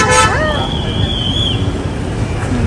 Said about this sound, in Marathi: गाड्या येतात.